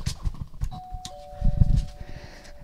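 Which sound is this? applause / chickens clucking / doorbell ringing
doorbell ringing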